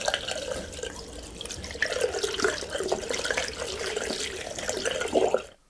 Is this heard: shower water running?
yes